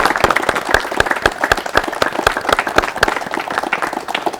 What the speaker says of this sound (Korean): 박양께 박수를 보내고 싶습니다